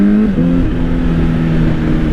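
A 2025 Honda CBR600RR sport bike engine sits loud and close, its harmonic tone stepping up and settling over a couple of seconds in a short rev blip, with no voices.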